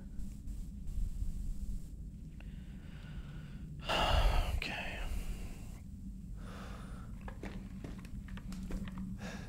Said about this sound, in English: That heavy breathing I explained earlier is a mix of me and my character